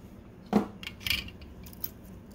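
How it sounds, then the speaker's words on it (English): A pin on a Game Boy Color cartridge connector is cut off during an LED kit install: a sharp metallic snip followed by a couple of lighter clicks and taps, close and quiet otherwise. "So we're just going to cut the pin off."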